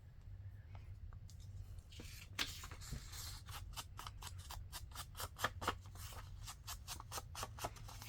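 Scissors snip through paper while a folio with pockets and tags is made, a quick run of close, crisp cuts in an uneven rhythm over a steady low hum.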